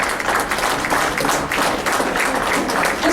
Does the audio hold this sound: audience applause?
yes